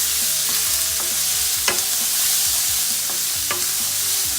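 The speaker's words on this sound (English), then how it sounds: "And then I'll add all these colorful greens to that." Colorful greens and asparagus fry in a hot pan, a continuous hiss broken by several sharp spatula scrapes and clicks as they are stirred, with no voices.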